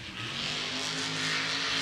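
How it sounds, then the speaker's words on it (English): Monster Jam monster truck engine roaring at wide open throttle in an arena, a loud, sustained revving drone that holds steady and builds slightly, close and unbroken. "Spinning around. Wide open throttle."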